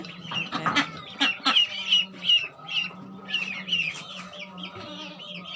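Young ducks and chickens fed banana leaves and grass at midday cluck and call in short, repeated bursts, close by and fairly clear against a quiet yard.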